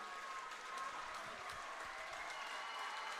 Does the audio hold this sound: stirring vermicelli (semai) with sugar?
no